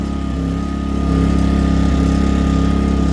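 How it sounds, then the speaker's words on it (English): A Powermate 2000i portable generator runs after a carburetor change, a steady, close, loud engine hum with a fast even pulse that rises slightly partway through and holds. "It's all buttoned up. Cranking out power. We're going to give it a test."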